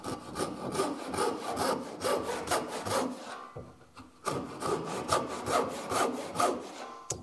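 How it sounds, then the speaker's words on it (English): Rhythmic back-and-forth strokes of a tenon saw cutting the corners of a wooden board down to a baseline, close and steady, with a short pause midway before the sawing resumes. "saw out these two corners down to your baseline"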